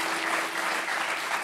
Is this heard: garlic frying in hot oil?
no